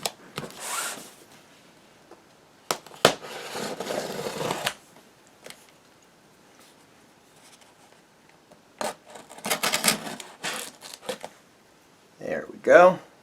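A knife slices through the tape and cardboard of an Analogue NT Mini Noir box in short rasping strokes separated by quiet pauses, with a voice speaking between cuts.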